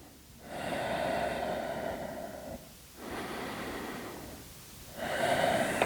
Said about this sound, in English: Take some deep and meaningful breath here.